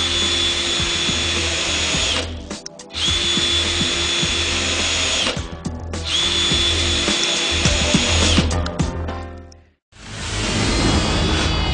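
A Makita 18-volt LXT lithium-ion cordless tool drives screws into a block of wood in three long, loud, close whirring runs separated by brief pauses, then starts a fourth run; no one speaks.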